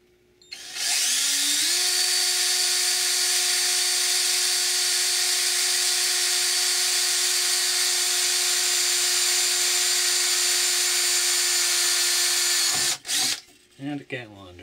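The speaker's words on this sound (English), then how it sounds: "Put a hole in a piece of wood." A power drill spins up and whines steadily for about twelve seconds as it bores a hole through a piece of wood, then cuts off, followed by a few brief rattling noises.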